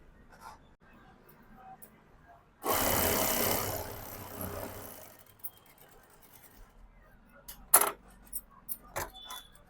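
A sewing machine stitches fabric lining in one loud whirring burst of a couple of seconds. Softer handling clicks and rustles follow as the cloth is moved.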